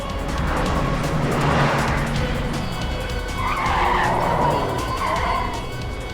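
Cars race and overtake on a road in a drama scene, with engine roar swelling and fading and tires skidding and squealing in two loud passes.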